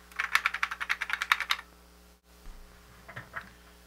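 Rapid keystrokes clatter on a computer keyboard, a quick burst of about a dozen close clicks, then a pause and a few softer scattered taps.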